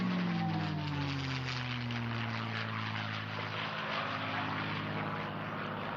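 A P-51 Mustang warplane passes by at an airshow with a droning propeller engine, its pitch sliding downward as it moves away, steady and moderately loud against open-air background noise.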